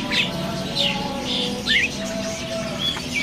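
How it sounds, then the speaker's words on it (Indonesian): A Javan myna at a bird market kiosk gives a string of short bright chirps and whistles over several seconds, with steady market murmur underneath. "Di kios ini ada burung jala kebo ya."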